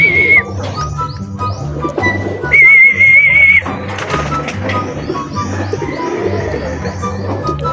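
Racing pigeons back from a training flight coo loudly and close by in repeated low, throaty phrases, with occasional chirps in between.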